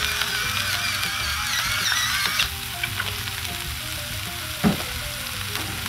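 Mushrooms with oil, salt and pepper sizzle steadily on a 22-inch Blackstone griddle, a dense close frying hiss with a couple of sharp scrapes and a clack near the end; no one speaks.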